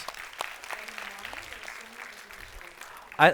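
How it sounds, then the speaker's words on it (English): An audience applauds under a speaking voice, and a louder burst of clapping comes right at the end. "Let's give him a big round of applause."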